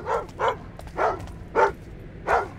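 Hound barking in the video game Thief, five loud close barks at a steady, evenly spaced rhythm, with a quiet low hum between them.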